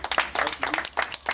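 Clapping from a small group at a club meeting and baby shower, a few hands in uneven bursts, close and moderately loud, with faint voices underneath.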